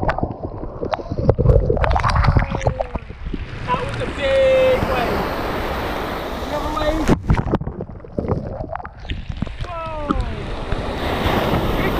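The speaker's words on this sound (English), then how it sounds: "Looking for the big wave." Waves roll and break along the Seaham coast with a rushing, surging wash, mixed with gusty wind buffeting the microphone; voices speak intermittently over the surf.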